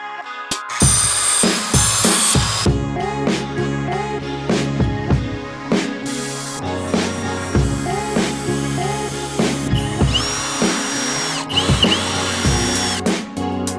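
A cordless drill drives 2.5 to 3 inch deck screws into a board in repeated bursts of whirring, pausing between runs with clacks and handling noise, close and fairly loud, with no voices.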